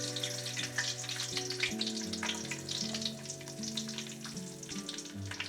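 Whole spices crackling and sizzling in hot oil in a pan for a Maharashtrian fish curry, a continuous close frying hiss with a low steady hum beneath and no speech.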